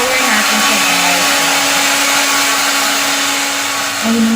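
A hair dryer blows steadily on freshly dyed hair, a loud continuous whirring drone with a constant pitch that dips briefly near the end.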